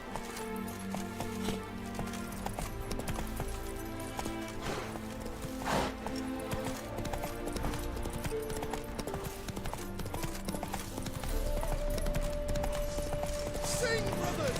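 Hooves of the horse Roach gallop in a rapid clip-clop rhythm through The Witcher 3, steady and close under game music and sound effects, with a brief whinny-like tone near the end.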